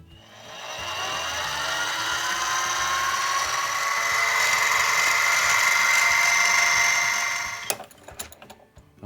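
A Harbor Freight mini mill drills holes in a metal part with a continuous high whine that holds steady for several seconds, then stops sharply, followed by a few clicks and rattles.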